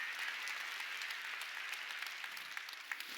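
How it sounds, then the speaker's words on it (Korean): Sunday worship congregation at a church applauding together, a sustained, fairly soft wash of many hands clapping that stays steady and unbroken. "박수로 하나님께 영광을 돌려야 할 것입니다"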